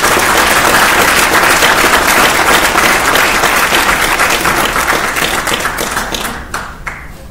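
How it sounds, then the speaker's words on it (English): A loud, sustained round of applause for distinguished awardees at a field artillery battalion ceremony fills the hall with dense clapping that tapers off near the end. "another round of applause for our distinguished awardees"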